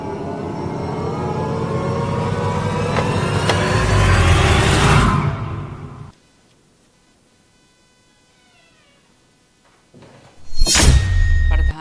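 A door closes with a sharp, loud thud that cuts off the preceding noise, followed by near silence and then another loud knock of a door being shut nearby.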